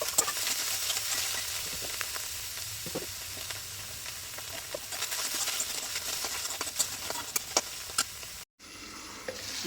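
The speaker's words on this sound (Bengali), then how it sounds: "বর নিয়ে আসলো চিকেন এখন চিকেন রান্না করছি" Chicken sizzles in a pan with a constant bright frying hiss, scattered crackles and utensil scrapes, close and steady, with a brief cut near the end.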